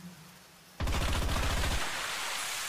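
Rapid automatic gunfire in the Project Ferocious video game trailer bursts in abruptly after a quiet start: a fast rattling stream of shots for about a second, then a loud lingering wash of noise.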